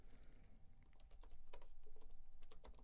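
Fast, irregular clicking of a computer keyboard being typed on, close and steady for a few seconds with no voice over it.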